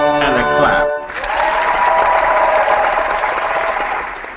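A horn-like toot with stacked harmonic tones opens, then gives way to a burst of sustained clapping applause that fills the rest of the stretch, loud and steady.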